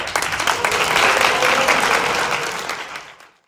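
An audience at a high school book concert with an author gives warm, full applause for about three seconds. The clapping is close and loud, then fades quickly to silence.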